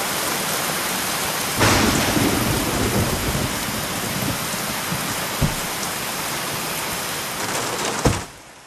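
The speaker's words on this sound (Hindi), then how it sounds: "ये मुंबई की बरसात भी कभी भी आती, पता ही नहीं चलता।" Heavy Mumbai monsoon rain pours in a dense, steady hiss, broken by a deep thunder rumble early on and a sharper crack near the end, with no voices.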